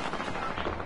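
Gunfire in Fortnite comes as a dense, continuous burst of rapid shots, steady and fairly loud, with no gaps and no talk over it.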